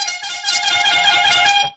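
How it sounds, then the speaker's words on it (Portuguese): Car horn honking in one sustained, loud blast lasting nearly two seconds, a bright harmonic tone with no talking over it. "A pastora Nazaré, ela gosta muito dessa buzina aqui"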